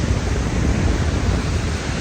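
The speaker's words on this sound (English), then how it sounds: "I heard the waves." Ocean waves at the beach, a constant broad wash of surf noise that stays loud and close with no breaks and no voices.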